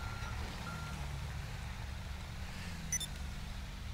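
Reversing beeps from a tow truck in GTA 5 sound faint and brief, a couple of quick high tones near the end over a steady low engine rumble.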